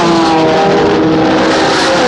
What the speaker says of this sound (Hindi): 11 नंबर की अपनी गाड़ी में मदन चोपड़ा भी काफी आगे आ चुके हैं।